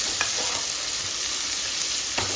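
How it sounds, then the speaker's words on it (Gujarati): Chopped onions frying in a pan for Gujarati vagharela khichdi, a steady, even sizzle with a few soft stirring scrapes, close and continuous with no talking. "આ ડુંગળી નાખીશું ડુંગળીને થોડી થવા દઈશું લાલ થાય ગુલાબી કલર જેવી"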